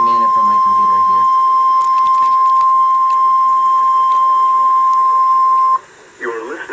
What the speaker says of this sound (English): Tone signals were a test of the alarm device of this weather radio station.